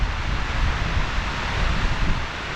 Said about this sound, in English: I've managed to come on a day when the waters are overflowing.